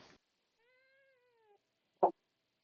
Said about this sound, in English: I don't know if you heard any of Beth's meowing